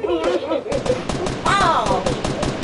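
Rapid bursts of video game gunfire crack through the clip in a dense, repeating rhythm, close and loud, with excited voices talking over the shots.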